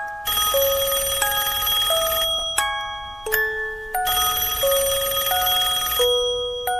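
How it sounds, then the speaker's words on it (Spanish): A telephone rings in repeated electronic trilling bursts, loud and close, with brief pauses between rings. "de repente sonó el teléfono"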